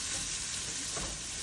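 Onions and garlic hit a pan with browned longaniza for Latin fried rice, giving a steady, bright frying sizzle that runs evenly and close, with no talking.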